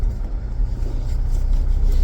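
A Volvo 240 engine idles at very low revs, a steady low rumble that holds close and fairly loud throughout with no other sounds on top.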